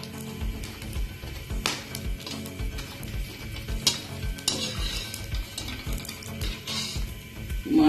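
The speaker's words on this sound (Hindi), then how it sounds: "तरह जो गूंद है जब फ्राई हो जाएगी तो इसको निकाल लेना है।" Edible gum (gond) fries in a pan for moong dal panjiri, giving a steady crackling sizzle with frequent sharp stirring and scraping clicks against the pan throughout, fairly close and with no talking.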